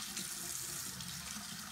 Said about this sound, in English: so I'm gonna turn my water on a little bit.